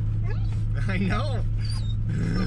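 A dog whimpers and whines in high, wavering cries inside a moving car, over a steady low engine and road hum, with people talking softly nearby.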